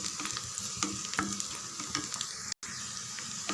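Onions with curry leaves and a cut dried red chilli sautéing in a pan send up a steady, fairly quiet sizzle with faint stirring taps and a momentary dropout near the end.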